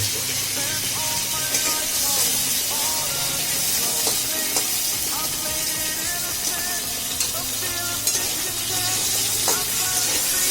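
Whole crabs fry in hot oil in a pan, giving a dense, continuous hiss and sizzle with occasional pops, steady and close throughout.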